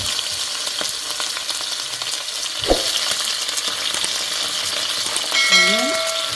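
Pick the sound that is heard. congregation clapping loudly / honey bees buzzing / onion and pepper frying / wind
onion and pepper frying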